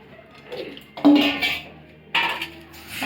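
Kitchen knife cutting through cauliflower florets on a board, producing a few crisp crunching chops and scraping bursts at close range with short pauses between cuts, no talk over them.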